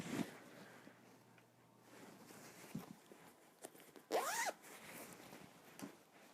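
A zipper on a fabric bag with a heart-shaped zipper pull, a couple of quick close zips separated by quiet pauses and faint handling rustle.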